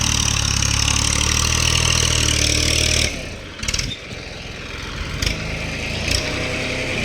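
A vehicle engine at steady high revs on an accelerator, cutting out sharply and dropping to a lower uneven idle with brief bursts as the throttle is worked again, loud and close, no speech.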